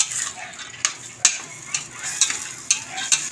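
Sautéed mung beans (ginisang munggo) stirred in a pan, with a soft steady sizzle and several sharp utensil scrapes and clinks against the pan, close and fairly quiet, no talking.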